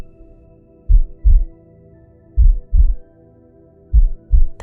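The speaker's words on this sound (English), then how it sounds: "The traveler stood, their heart pounding in their chest." Steady heartbeat sound effect, three pairs of deep, thudding lub-dub beats at an even, measured pace, alone over a faint low hum.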